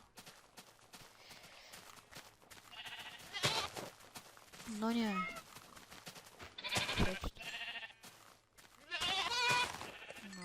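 Several sheep bleats from the game YogBoX sound out amid clicks and clip-clopping, with a person speaking briefly in between.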